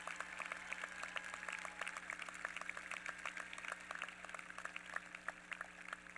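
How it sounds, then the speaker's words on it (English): A high school graduation audience claps for local award scholarship winners, a faint, distant patter of many hands spread steadily through an echoing venue under a low hum. "please give a big round of applause and congratulations to all of our local award"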